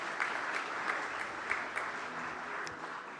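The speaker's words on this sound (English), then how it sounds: "A big round of applause for this woman." Audience applause at the finale of a live awards ceremony, steady and moderately loud for about three seconds, with individual claps blending into a continuous wash of hands and no voices on top.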